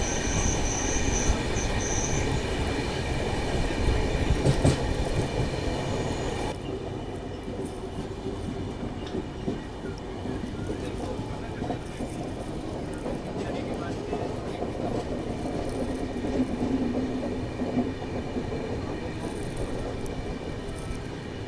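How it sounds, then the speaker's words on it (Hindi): Passenger train on the AP Express running through a ghat section, a continuous rumble and rattle of wheels on track with high-pitched wheel squeal, steady and moderately loud throughout, heard from inside the train. "कुछ इस तरह से ट्रेन हमारी चलती है घाट सेक्शन में"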